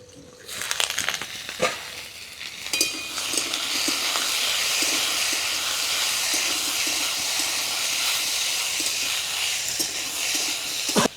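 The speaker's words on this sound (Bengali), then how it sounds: "ঢাকনা দিয়ে সবজিগুলোকে ভালো করে ভেজে নেব।" Winter vegetables fry under a lid in a covered pan. A few clinks come first, then a steady, even hiss settles in and holds unbroken to the end, with no voices.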